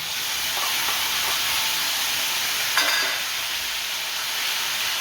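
A paste of cumin, ginger and coriander hits a hot pan of frying potato and papaya, giving a loud continuous sizzle and hiss with a brief sharper spatter midway.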